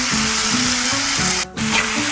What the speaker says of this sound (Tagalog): Ngayon po ay ilalagay ko na itong pritong isda.